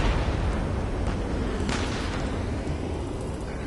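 Gunfire and explosions in the Ace Combat 7 video game form a dense, roaring wash of booms and rumbling blasts, loud and continuous with a few sharper bursts standing out.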